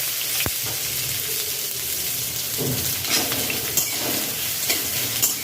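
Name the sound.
chopped onion frying in hot oil with nigella seeds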